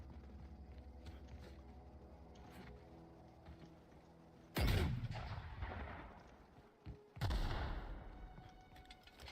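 Heavy gun fired in The Outer Worlds video game: two loud, booming shots a few seconds apart, each with a sharp crack and rolling low tail, over a quiet background hum.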